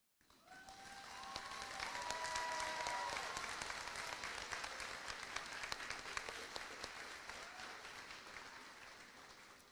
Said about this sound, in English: Would the entire class please stand to applaud Miss Stewart and Miss Hooten